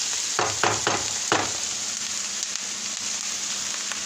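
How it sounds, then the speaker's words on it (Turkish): Onions sautéing in a pan for Turkish menemen: a soft, steady frying sizzle, with four quick scraping strokes of stirring near the start before it settles into an even hiss. "Soğanı kavuruyoruz şimdi. Kavrulacak. Karıştırarak kavuruyoruz."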